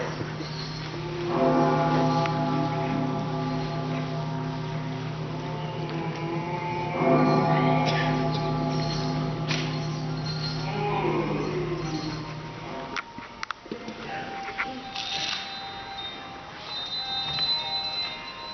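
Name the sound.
bell tolling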